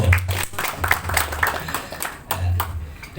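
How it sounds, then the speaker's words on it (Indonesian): An audience at a halal bi halal gathering and discussion claps for Pak Joko, giving a short burst of scattered, irregular hand claps while voices murmur underneath. "Tepuk tangan untuk Pak Joko."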